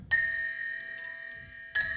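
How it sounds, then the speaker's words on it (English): An 8-inch Meinl bell rings out twice in a drum workshop, each bright metallic strike leaving a clear, sustained high ring that carries between hits, with no talking. "Here I use two 8-inch bells."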